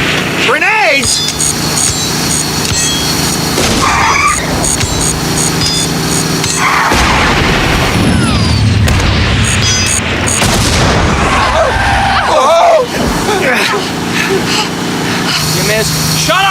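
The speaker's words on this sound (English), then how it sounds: "Grenades!" Grenade blasts and gunfire in a scene from the film The Love Bug boom loudly over a running car engine, with voices shouting in between.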